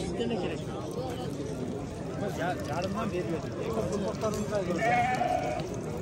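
Sheep bleat repeatedly at a busy livestock market, their calls rising over a constant crowd murmur and nearby voices, with a clear, sustained bleat standing out near the end.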